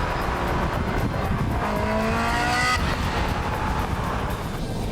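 A Ferrari 360 Modena supercar engine revs hard and loud, its pitch climbing through the gears with a brief shift break, then settling into a steady roar; no speech.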